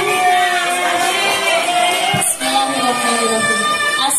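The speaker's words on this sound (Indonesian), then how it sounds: "Bukan tepukan untuk saudari Mirka Bela." Crowd noise rises into cheering and clapping for a contestant at a girls' Islamic boarding-school speech competition, a steady, fairly loud audience din with voices mixed in.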